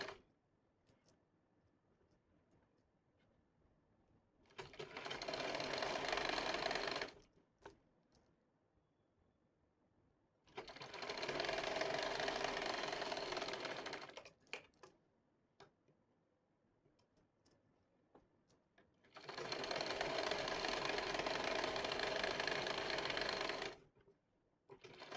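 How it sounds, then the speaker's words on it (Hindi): A sewing machine stitches a pant leg for size 32 regular pants in three loud, steady runs of rapid mechanical whirring, separated by quiet pauses with small ticks and handling noises. "तो एक पैर का इसमें भी सिलाई लगा देंगे।"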